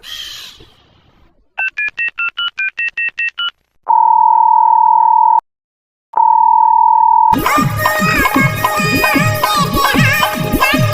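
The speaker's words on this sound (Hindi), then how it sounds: "मुकेश अंबानी का फोन है" Telephone call sounds in a comedy sketch: a quick run of dialing beeps, then two long steady ringback tones separated by a short gap, clear and loud, before music with a beat takes over.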